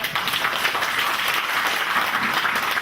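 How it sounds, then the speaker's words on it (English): Sustained audience applause at a budget forum and book launch, an even wash of many hands clapping at moderate distance without a break. "Let's give him a round of applause."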